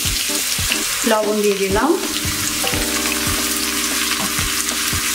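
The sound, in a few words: onions frying in hot oil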